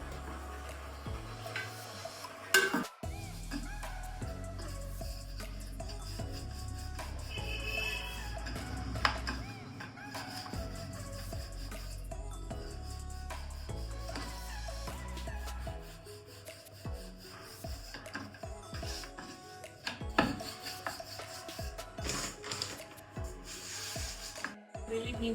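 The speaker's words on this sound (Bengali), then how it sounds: "এবার এগুলোকে বেলে বেলে ভাজবো" A rolling pin rolls out methi paratha dough on a board with continuous rubbing and scraping strokes. A sharp knock sounds early on, and the strokes carry on rhythmically, close by and moderately loud.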